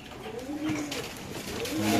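Pigeons at a bird market in Bangladesh, including Afsan grizzle white birds, coo softly and repeatedly in low, close rolling calls over light background noise.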